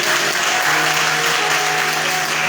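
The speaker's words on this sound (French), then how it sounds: "Des applaudissements pour elle" Audience at an event clapping for a woman being honored, a steady, full round of applause from many people that stays even and loud throughout.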